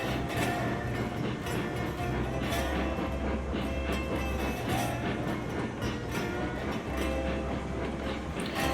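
A heavy steam train in the Railroads Online game hauls 75 logs downhill, a continuous rolling rumble with steady low engine drone, wheel clatter and faint rhythmic clacks throughout.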